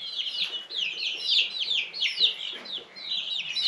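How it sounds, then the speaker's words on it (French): Bresse chickens in a henhouse, a busy close chorus of overlapping clucks and squawking calls in quick irregular bursts, continuous with no pauses. "j'ai la deuxième fournée de poulet de Bresse"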